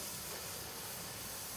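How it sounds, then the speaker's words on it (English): Hot rocks dropped into maple sap give off a loud, continuous broadband hiss of boiling and steam, steady and close with no voices. "So do you see all that steam?"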